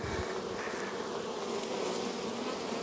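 Honeybees at an open hive give a dense, steady buzz, close and loud, lasting the whole time with no voices over it.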